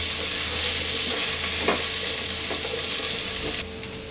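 Vegetables including carrots frying in a pan for chicken chow mein, a loud continuous sizzle with a few clacks of a spatula, the hiss easing slightly near the end.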